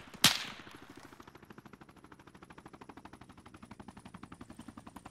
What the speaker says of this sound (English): Yeah, they're shooting at me too.